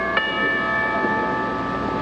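A comic chime rings out as a bell-like strike with a sustained, clear metallic tone that lingers and slowly fades, alone without talk.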